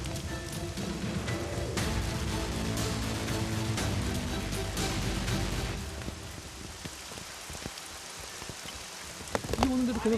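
Steady rain pours onto a rooftop garden landscaping worksite, a dense, continuous patter on surfaces with a few sharper drips and knocks near the end.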